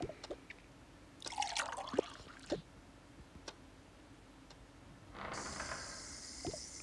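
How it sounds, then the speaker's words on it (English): Liquid poured into a cup in a quiet room, a soft trickle and splash with faint drips and ticks, then a louder steady pour toward the end. "let me start pouring you this."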